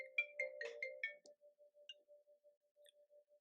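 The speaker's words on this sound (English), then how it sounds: "A phone call came in." An incoming call sets off a phone's melodic ringtone, a quick run of bright electronic notes followed by a soft, steady ticking pulse, faint and heard with no talk over it.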